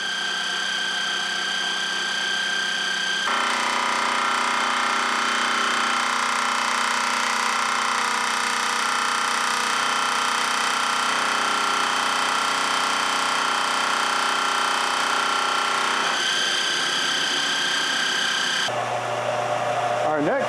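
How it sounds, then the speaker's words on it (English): Small scroll saw cutting knife handle scales, a steady buzzing motor whine with the blade's reciprocating rasp holding a constant pitch, loud and close, shifting tone briefly near the start and near the end. "The little scroll saw is doing good, and it's saving me a tremendous amount of time in cutting out these scales."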